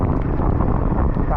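Heavy rain and gusting wind roar into the microphone during a Royal Enfield motorcycle ride on wet roads in the Western Ghats near Kudremukh, a loud dense rush with no clear voices.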